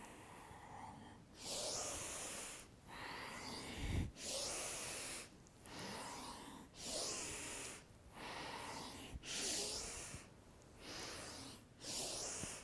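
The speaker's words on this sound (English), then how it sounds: "Breathing nice and full, nice and deep." Deep, full breaths during a Kundalini and Vinyasa yoga flow, each slow inhale and exhale close and breathy, repeating in a steady rhythm roughly every second or so, with no talking over them.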